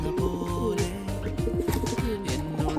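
Pigeons coo in repeated low, throaty rolls, several birds overlapping close by against a humming background.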